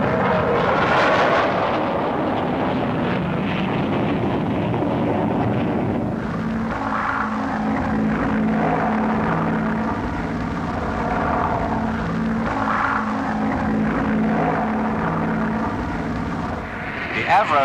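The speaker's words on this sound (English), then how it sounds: "Great interest centres, of course, on the Delta Wing experimental types, of which several were on show" Delta wing experimental jet aircraft fly at the Farnborough airshow in the 1950s, a continuous roaring engine drone that rises and falls while someone narrates over it.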